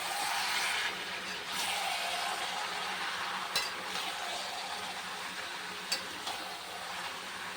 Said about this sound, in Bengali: এবার বাঁধাকপিটা দিয়ে দেবো।